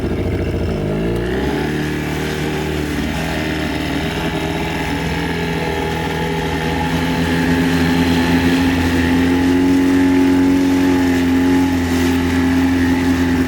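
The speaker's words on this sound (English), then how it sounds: "It's a tough life for the boat motors out here." A boat's outboard motor drones loudly and steadily nearby on a river in the Pantanal, Brazil, rising slightly in pitch partway through as it revs higher.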